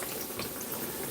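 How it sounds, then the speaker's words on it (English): Dense, steady crackling and popping of hot oil as herb-filled pumpkin dumplings fry, a continuous bubbling hiss with small sharp pops throughout and no voices. "You can hear the herbs popping"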